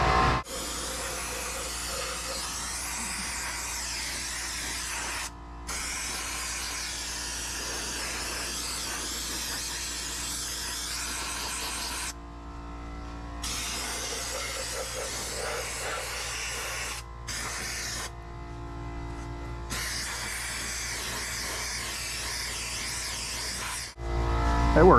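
A mini sandblaster blasts sand into the corners of a car bumper, giving a steady, loud spraying hiss that runs in long bursts with brief pauses between them.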